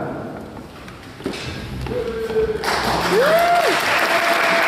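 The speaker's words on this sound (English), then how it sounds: "You don't need to applaud." A concert audience at a military band performance bursts into applause that builds from scattered claps into loud, full clapping, with whoops and a whistle rising over it.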